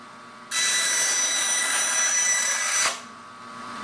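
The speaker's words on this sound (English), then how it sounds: "I have this bandsaw set up on the lower speed, about 1400 linear feet per minute" A woodworking bandsaw set to its lower speed of about 1400 feet per minute cuts through metal, giving a loud, steady high-pitched grinding whine that starts abruptly, holds for over two seconds, then stops, leaving a quieter motor hum.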